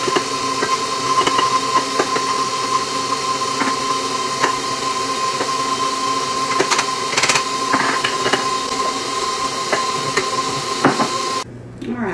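An electric mixer whisks stiff, dry tea cake dough in a mixing bowl. The motor drones and whines steadily, with clatters of the whisk against the bowl, then cuts off near the end.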